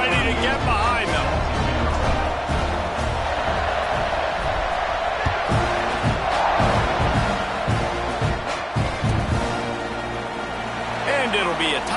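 A football stadium crowd roars and cheers as the kickoff is set after a PAT, a loud sustained wall of noise under a commentator's voice, with a brief surge near the middle.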